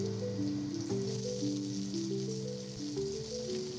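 Minced garlic and chopped ginger sizzle in a little white oil in a wok, a steady soft crackle and hiss heard close up with no talking over it.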